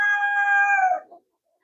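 A rooster crows once, close and loud, in a long harmonic call that drops and fades away into silence.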